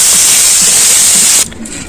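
Potatoes fry in hot oil with a loud, steady sizzle close up that cuts off abruptly near the end, leaving a quieter background.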